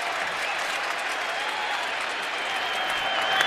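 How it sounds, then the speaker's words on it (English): A full-house baseball stadium crowd cheers and applauds during a 1-2 count, a steady, loud wash of clapping and voices that swells slightly toward the end. "Full house crowd cheering for him."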